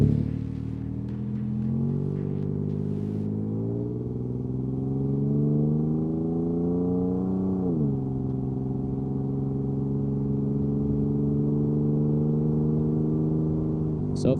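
A Toyota 4Runner in Baja trim with a Magnaflow exhaust drones steadily while driving, its deep exhaust note rising as the engine revs up, then dropping and settling into a sustained loud rumble, heard from inside the vehicle.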